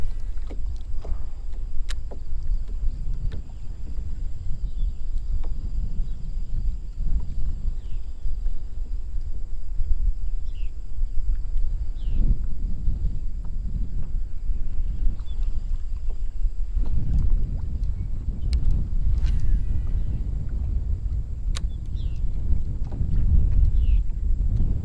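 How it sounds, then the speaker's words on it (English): Strong wind buffeting the microphone on open water during sight fishing for redfish from a small boat, a loud continuous low rumble that surges and eases, with faint creaks and no talk. "it's windy as hell today."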